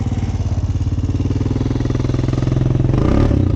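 A Polaris Recon off-road vehicle engine laboring close and loud as it drives through soft creek sand, a steady rapid pulsing drone that rises slightly near the end, with no voices.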